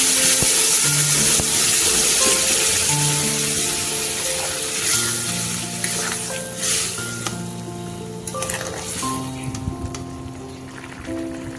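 Ridge gourd and egg curry sizzling hard in a hot pan as gravy is poured in, a loud steady crackle and hiss that slowly eases while the pan stays near, with no talk.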